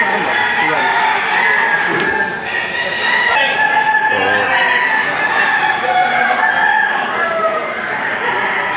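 Roosters and hens call over a busy, dense din at a cockfighting arena, crowing and clucking mixing together continuously at moderate loudness.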